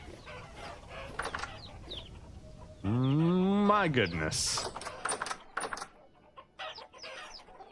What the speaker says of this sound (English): Cock-a-doodle-doo to you too.